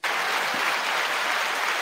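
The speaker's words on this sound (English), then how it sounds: "You didn't realize you were getting applause too, did you?" A studio audience applauds a guest at a sales and marketing talk, with a sudden onset of continuous, even clapping close by and no voices.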